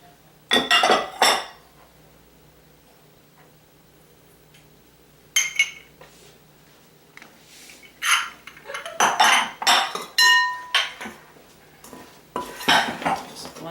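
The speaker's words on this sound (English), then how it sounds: "Now I have to mix up all my dry ingredients first, mix that up" Dry cornbread ingredients being stirred in a mixing bowl, with a utensil clinking and scraping against the bowl in short bursts between quiet pauses, growing busier toward the end.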